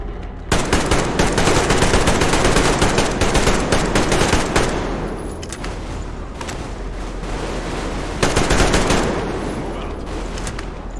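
Sustained automatic gunfire in Metro Exodus, many overlapping weapons firing in a continuous heavy barrage with booming blasts, loud and close, easing off briefly midway before surging again.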